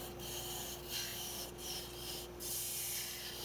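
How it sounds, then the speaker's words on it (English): Sandpaper rubbing a spinning wooden lidded box lid on a woodturning lathe, a steady close hiss with a motor hum beneath and brief rhythmic swells as the paper is pressed and shifted. "Just easier to sand all this right now. I can sand the inside of the lid and that lip"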